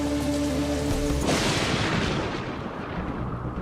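Heavy monsoon rain pours down in one of the wettest places on Earth, a dense, loud, continuous roar of downpour with a low rumble beneath, steady throughout.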